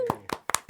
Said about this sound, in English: attempt a vague round of applause for the Crumble